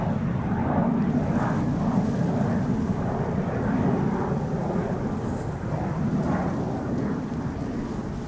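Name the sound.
KLM Boeing 777-300 wide-body airliner at Schiphol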